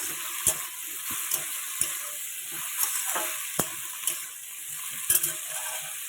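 Mixed vegetables for chow mein fry lightly in a pan, a soft steady sizzle broken by occasional sharp clicks and scrapes of stirring.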